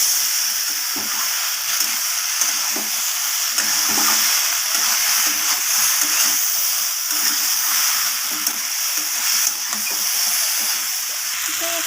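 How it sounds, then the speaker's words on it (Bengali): Bitter gourd, okra and prawns being stir-fried together in a pan, a loud continuous sizzle with repeated scraping and stirring strokes throughout. "এরপর আবারও সব কিছু ভালোভাবে এইভাবে কষিয়ে নেব"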